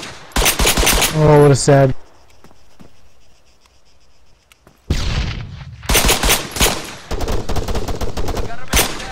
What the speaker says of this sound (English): Have any of those pistol shots hit either of you?